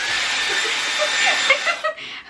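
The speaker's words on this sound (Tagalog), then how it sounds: "Ang tunog niya parang yung vacuum." A Dyson Airwrap hair styler runs with a steady, loud, breathy whir of rushing air like a small vacuum, holding even for about two seconds before cutting off near the end.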